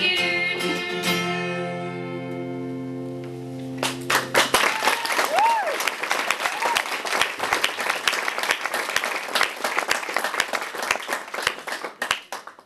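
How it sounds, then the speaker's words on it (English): After a sustained sung chord fades, a crowd breaks into loud, dense applause that keeps going for several seconds, close and full, with scattered voices mixed in. "Hold for applause."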